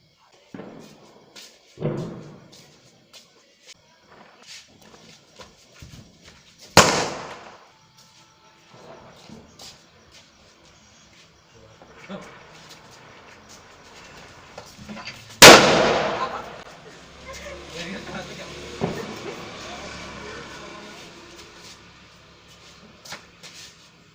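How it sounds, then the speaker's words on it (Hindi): Two loud firecracker blasts from bijli bomb firecrackers go off several seconds apart, sharp and close, amid scattered quieter thuds and occasional voices. "तो वहाँ पे बिजली बम है ना, तो वो फोड़ेंगे।"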